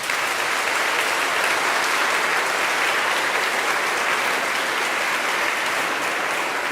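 Dense, steady applause fills a school's 8th grade recognition ceremony as the crowd honors students who played sports, the clapping loud and unbroken throughout.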